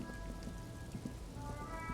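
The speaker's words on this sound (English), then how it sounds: "Oh, it's raining." Steady rain falling in a video game, a dense continuous patter of drops on surfaces with faint low rumbles beneath, holding at an even level throughout with no talking.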